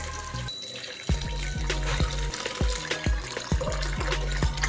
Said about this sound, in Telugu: ఇప్పుడు వాటర్ పోసుకోండి మీరు